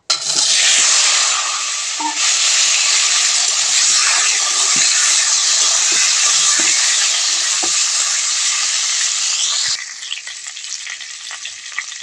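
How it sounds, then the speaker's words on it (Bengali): Boiled potatoes fry in a wok for a potato curry, giving a loud, steady sizzle that runs almost without break, with scattered spatula scrapes and clicks, then softens slightly near the end. "এবার সিদ্ধ করা আলু কড়াইতে দিয়ে আমি ভালো করে ভেজে নেব"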